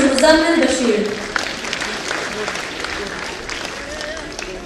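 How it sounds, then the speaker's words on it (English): A crowd applauds a Grandmaster winner at a state-level student competition in Jammu and Kashmir. The clapping is sustained and moderately loud, and an announcer's voice rises over it at the start. "Put your hands together for another one"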